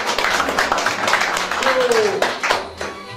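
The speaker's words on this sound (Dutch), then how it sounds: "Zo, applaus." Brief clapping from a small group at a children's prize-giving ceremony, a quick patter of hands mixed with chatter and a voice speaking over it.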